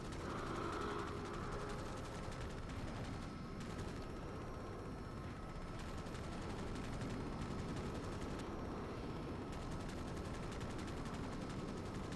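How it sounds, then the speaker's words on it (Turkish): Sustained gunfire from the video game Crysis, a dense continuous rattle of automatic weapons with steady loud noise throughout and no talking. "Ne tamam hala ateş ediyorlar bir yerden."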